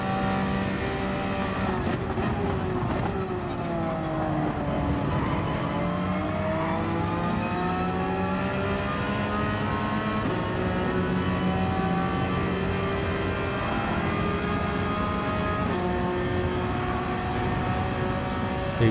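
A Porsche 911 992 GT3 engine pulls hard through the gears while short shifting, a loud continuous rising whine that drops at each quick upshift and climbs again, heard from inside the car throughout.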